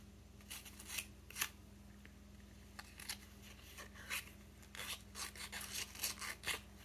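Quiet, irregular scraping strokes of hand sanding, a rough rasp repeating in short bursts over a low steady hum.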